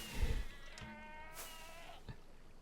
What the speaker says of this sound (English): Why are there goats here?